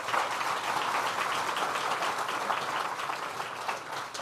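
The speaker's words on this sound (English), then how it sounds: "Let's give her another round of applause." An audience applauds at a governor's public event in the Southern Tier of New York, a steady wash of clapping that continues evenly for a few seconds at a moderate distance, with no voices standing out.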